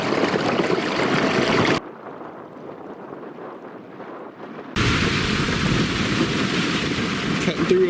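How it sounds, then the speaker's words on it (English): Canoe gliding across water and breaking through thin ice on a teal duck hunt, a steady rushing, crackling wash that drops to a quiet lull midway before surging back loud and close. "Cutting through a little bit of ice."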